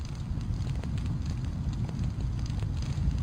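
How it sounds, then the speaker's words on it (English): Flaming sword fire in the video game Mount & Blade Warband with the Light Darkness mod, a steady low roaring rush that holds at an even loudness throughout. "Fire!"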